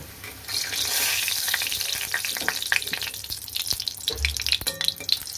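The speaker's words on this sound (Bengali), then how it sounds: "আমি এটা বেশি কড়া করে ভাজবো না, হালকা ভাজবো, হালকা করে ভেজে নিচ্ছি" Pieces of dhoka, a lentil cake, sizzle lightly in hot oil with a steady crackling hiss, and close clinks and scrapes of a utensil turning them.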